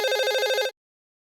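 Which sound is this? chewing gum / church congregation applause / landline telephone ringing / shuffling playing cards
landline telephone ringing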